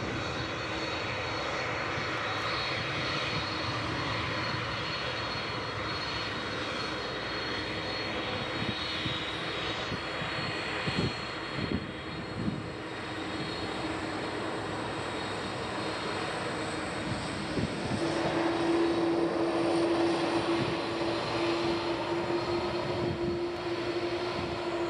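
A Lufthansa airliner's jet engines roar with a broad, sustained rumble that swells gradually, joined late by a rising whine, heard at a distance at an airport.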